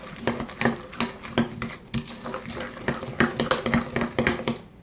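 Pecans being stirred into pecan pie filling in a bowl, close irregular clinks and scrapes of a utensil against the dish in a quick uneven rhythm, with no one talking.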